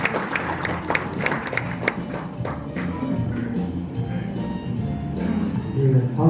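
Indoor audience at a national assembly clapping, a burst of scattered claps thickening into sustained applause, with a voice and crowd murmur underneath toward the end.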